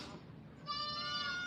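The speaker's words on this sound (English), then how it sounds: "This one here, she's the last goat due for this round of kidding until May." A pregnant goat bleats on a farm during kidding season, a single drawn-out, nasal call rising over faint background noise, moderately close.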